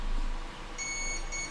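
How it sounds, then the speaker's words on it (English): An RC airplane's electronic speed controller gives its arming beep: a clear, steady electronic tone that starts partway through and holds, fairly quiet against a low background hum. "I never did hear the beep beep beep."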